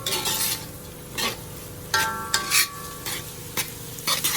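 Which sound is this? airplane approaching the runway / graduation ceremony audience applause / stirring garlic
stirring garlic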